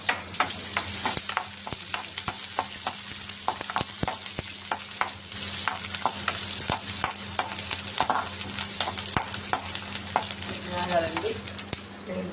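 Drumstick pieces fry in oil with curry leaves while a spoon repeatedly scrapes and clicks against the pan, a steady sizzle punctuated by sharp stirring knocks throughout.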